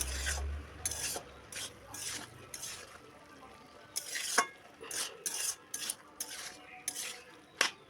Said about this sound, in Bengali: এবারে ভেজে রাখা তেলটা দিয়ে ভালো করে মিশিয়ে নেব।